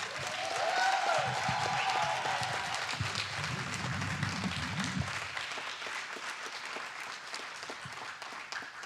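Congregation at a church service applauding and cheering for Jesus of Nazareth, a loud, dense wash of clapping and voices that swells briefly, then settles into steady sustained applause.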